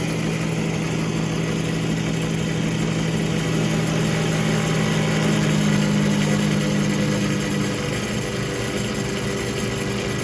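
A hybrid generator's engine runs steadily at close range while VESC braking is applied, a constant loud drone with a low hum and no notable change in pitch throughout.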